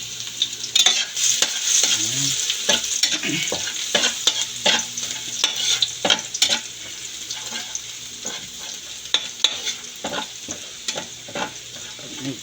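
Garlic sautés in a little oil for picadillo, a constant sizzle broken by repeated clanks and scrapes of a spatula stirring in the pan, close and fairly loud, with no talk.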